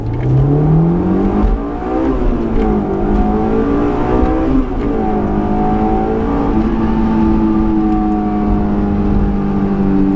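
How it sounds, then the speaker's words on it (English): 2008 Honda S2000 pulling hard in first gear, its exhaust note climbing in pitch as revs rise, with a shift-like dip near two and four seconds before the tone settles higher; loud and close with no talk. "All right, first gear pull."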